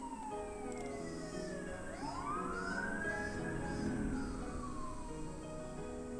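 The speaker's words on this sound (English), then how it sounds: "I do not appreciate having sirens interrupt." Emergency vehicle sirens wail and sweep in pitch as they pass outside, steady and moderately loud throughout, with a low rumble of traffic underneath.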